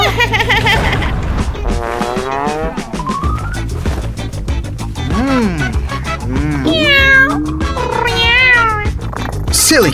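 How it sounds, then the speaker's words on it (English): A pet cat meows repeatedly up close, with drawn-out, rising and falling cries, some whiny and caterwaul-like, filling the whole stretch over a steady low background hum. "Silly cat wants my sandwich."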